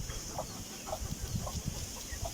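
Backyard fighting roosters in conditioning give soft, intermittent clucks at a steady pace, faint and mid-distance over a constant hiss, with no talking.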